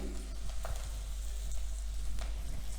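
Chickpea leaf greens frying in a pan over a low gas flame, a steady soft sizzle with light stirring scrapes running throughout, close and continuous.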